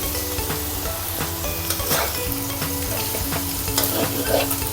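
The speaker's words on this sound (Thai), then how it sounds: "เอาหมูค่ะ มาผัดกับไข่นะคะ ผัดไปเรื่อย" Pork stir-frying with egg in a pan for a Thai glass-noodle dish, a busy crackling sizzle with repeated scraping strokes of a spatula, close and steady, without speech.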